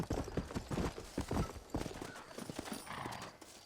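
Horse hooves clip-clop in a steady trotting rhythm in the Red Dead Redemption video game, close and fairly loud, with a brief whinny and no talk over it.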